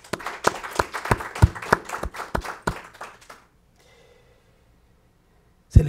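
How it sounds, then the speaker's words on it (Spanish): Applause for the risen Christ during a Mass. Sharp, uneven hand claps ring out close and loud for about three seconds, then fade into near silence before a final thump. "Desde tu casa te invito a que a Cristo resucitado le des un fuerte aplauso"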